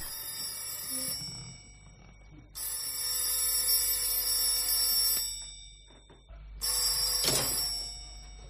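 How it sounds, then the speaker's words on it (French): An old-fashioned telephone bell rings in three long, loud bursts separated by short pauses, with faint background noise between rings. "Le lendemain matin, sonnerie du téléphone."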